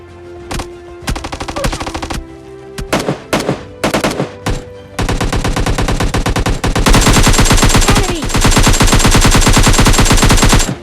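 Gunfire in a battle royale mobile game comes first as short, sharp bursts, then as loud, steady automatic fire with many rapid shots in close succession, with no voices.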